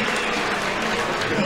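A stadium crowd at a 2003 Winnipeg Blue Bombers vs Edmonton Eskimos football game applauds a referee's flag call, a steady dense wash of clapping and crowd noise with a commentator's voice faintly underneath.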